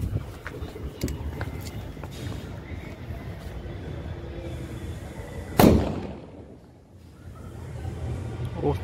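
A single firecracker bomb bursts with one sharp, loud crack close by outdoors, after a stretch of rustling and background noise, then things go briefly quiet.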